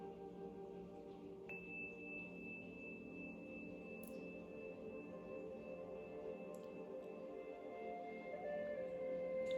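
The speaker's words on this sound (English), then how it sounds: "Listen to the sounds of the tones taking you deeper" Sustained relaxation meditation tones hum softly, with layered steady pure pitches and a higher tone entering early that holds throughout, calm and quiet with no talking.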